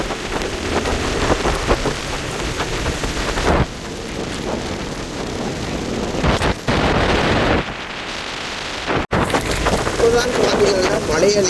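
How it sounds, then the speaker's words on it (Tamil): Heavy evening rain pours steadily over open paddy fields, a loud dense wash of falling water with occasional rumbling, running throughout. "5:30 பொழுதுல இப்படி ஒரு மழை அடித்து பெய்து கொண்டிருக்குது."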